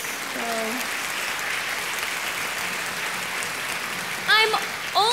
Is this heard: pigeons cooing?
no